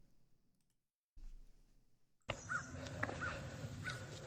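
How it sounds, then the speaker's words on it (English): A real crow cawing outdoors, heard as a few sharp calls and clicks standing out over a steady, fairly loud background noise that starts partway through after a quiet stretch. "You know that's a real crow. That's not a fake."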